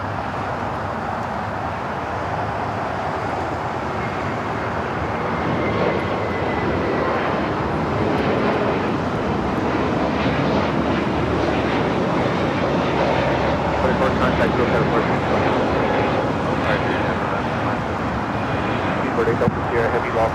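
A British Airways Boeing 777-300ER jet rolls for takeoff at LAX, a loud, continuous engine roar that holds steady and swells slightly for the full length, with faint voices underneath.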